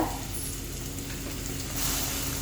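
Food sizzles steadily in hot oil in a pan while a Tamil Nadu vada curry is cooked, a close, even frying hiss that swells slightly louder near the end.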